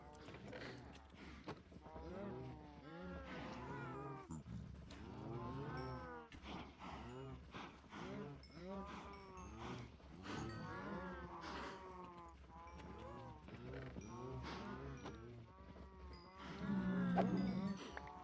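A baby cow moos in a video game, its calls repeating steadily through a farm-animal soundscape with steady clip-clop-like steps, plus one louder burst near the end.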